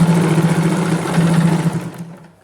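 A sewing machine runs a continuous stitch down the side seam of a palazzo pant with elastic waist, a loud, steady whirring buzz that slows and stops near the end.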